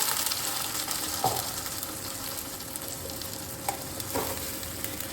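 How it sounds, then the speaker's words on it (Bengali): Onions, garlic and three green chilies frying together in a pan for a whole-garlic chicken dish, a steady broadband sizzle with a few brief stirring clatters, close and continuous with no talking. "যেরকম আমরা পেঁয়াজ ভাজি সেই রকম একসাথে এখানে আমি দিলাম পেঁয়াজ, রসুন আর 3টে কাঁচা লঙ্কা"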